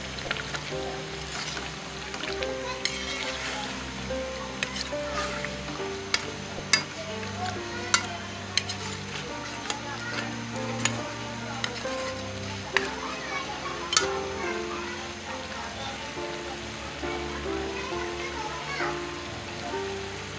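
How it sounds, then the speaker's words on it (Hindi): Chicken pieces sautéing in a pot for aloo chicken curry, a steady low sizzle with frequent scraping and clinking of a spoon stirring, continuous throughout. "ये बुनाई हो रही चिकन की।"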